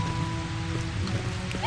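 Steady rainfall in the video game Dragon Quest Builders, a continuous hiss of falling drops with soft patters and drips, accompanied by a low, sustained game music drone underneath.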